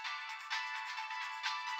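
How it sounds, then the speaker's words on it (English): Cell phone ringtone in the visual novel game Supipara, a bright electronic tune playing alone, with a fresh phrase starting about every second. "My cell phone suddenly rang."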